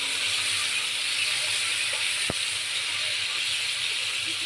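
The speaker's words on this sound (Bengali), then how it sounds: "মাছ ভাজা হয়ে গেল বলতে গেলে, আর এক পিঠ হবে" Fish frying in a pan gives a steady, bright sizzling hiss that runs unbroken for a few seconds, broken by a single faint tap partway through.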